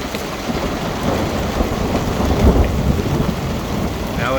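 Thunder rolls through a thunderstorm over steady heavy rain, with a loud rumbling swell building in the middle before easing back into the downpour.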